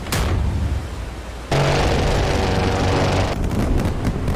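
Ship cannons on a Type 071 Yuzhao vessel firing in a combat simulation, a sharp blast followed by a loud, sustained roar of rapid gunfire with booming low end.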